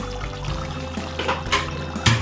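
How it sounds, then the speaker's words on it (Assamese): Assamese-style duck curry simmers in a covered pot over a medium flame, giving a steady, close bubbling and gurgling of liquid that swells slightly near the end, with no one speaking. "ধুনীয়াকৈ উতলি আছে"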